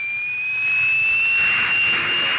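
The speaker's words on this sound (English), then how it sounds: "the twisted scream of the jet" A jet aircraft engine roars with a steady high-pitched scream, loud and continuous, swelling slightly as it goes, with no voices.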